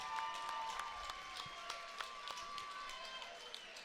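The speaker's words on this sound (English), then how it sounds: "How about a round of applause for these 2 great fighters" Crowd applause and cheering for two fighters at a CW 57 combat sports event: a steady, fairly distant wash of clapping with scattered sharper claps, mixed with a voice over the arena noise.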